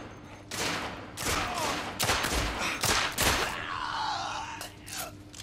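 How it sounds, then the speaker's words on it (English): Gunfire in the video game The Order: 1886, a fusillade of sharp close shots in irregular bursts, several clustered shots, with rumbling echoes between them. "I'm just going to shoot him in the head because he put his gun out on me"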